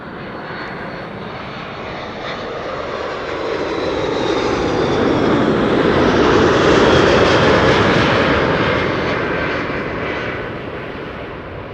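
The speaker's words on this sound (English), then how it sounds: "This is Delta Airlines flight 236." A Delta Air Lines passenger jet arriving at Amsterdam Schiphol Airport: a steady engine roar that swells to a loud peak midway as the plane passes close, then slowly fades.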